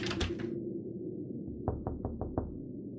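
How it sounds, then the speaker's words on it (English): A locked door being tried in a horror video game: five quick, evenly spaced rattling knocks follow a brief muffled opening sound. "Door's locked. I have to find the key."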